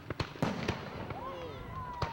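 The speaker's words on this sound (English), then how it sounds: "everyone's enthusiasm was gearing up for these fireworks." Fireworks at a 250th anniversary celebration in Intercourse, Pennsylvania: several sharp distant pops and crackles against steady crowd murmur, with a rising whistle as a shell climbs.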